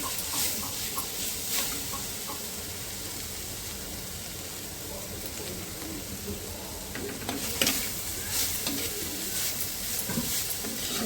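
Guava leaves sauté in a pan with a soft, even sizzle and light stirring, fairly faint, with a few louder scraping bursts near the end.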